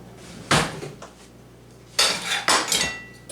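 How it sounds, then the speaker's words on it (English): Metal cookie cutters clink against a plate of flour as they are dipped for gingerbread, giving a few close, sharp metallic knocks and rattles with pauses between them. "I'm going to dip my cookie cutters in"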